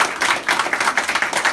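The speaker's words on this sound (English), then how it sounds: "Go clap for that." Crowd at a political rally on Labor Day in Falls Church, clapping steadily in a dense, continuous burst of many hands, fairly loud and close, with no talk over it.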